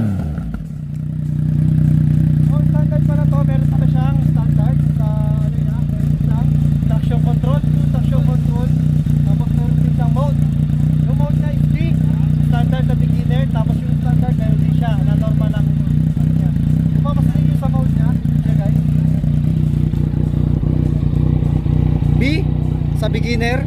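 A Yamaha MT-09 motorcycle engine runs at a steady, loud, close idle with a low drone throughout, while a person talks over it.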